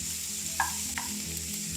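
Constant gentle sizzle of onions and tomatoes frying in a pan, with a couple of light scraping stirs.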